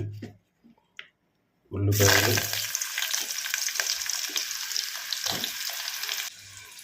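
Onions and green chillies dropped into hot ghee in a pan for bagara rice, with a sudden loud burst of sizzling that settles into a steady hiss before fading, after a few quiet knocks.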